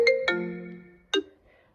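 A phone ringtone sounds from a second phone: two bright chime notes in quick succession, a decaying tail, then a third shorter note, clear and fairly close with no talk.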